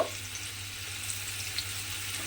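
Grated ginger fries in hot oil with asafoetida while pumpkin, potato and paneer are prepared, giving a steady close sizzle and faint stirring scrapes, with no talking.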